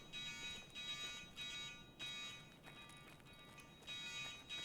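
An alarm in the Escape from Tarkov video game pulses in a steady rhythm, a repeating electronic tone blaring in regular bursts over low background noise.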